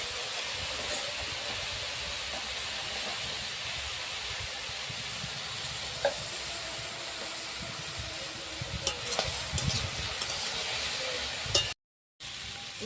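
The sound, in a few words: vegetables frying together in a pan with sugar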